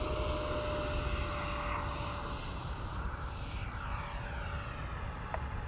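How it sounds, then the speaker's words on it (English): An FMS 70mm F-18 RC jet taking off at full throttle gives a steady, loud electric-ducted-fan whine with a high sustained tone over broadband rushing noise, holding fairly constant throughout. "Alright, taking off. That's full throttle right there."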